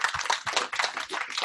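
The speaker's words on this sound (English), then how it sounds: "give yourselves another round of applause" An indoor audience at a corporate meeting claps in a brief, dense round of applause, close by and without any talk.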